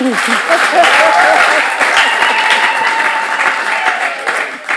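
A studio audience at a talk show applauds loudly and continuously, sustained clapping that holds steady and trails off toward the end.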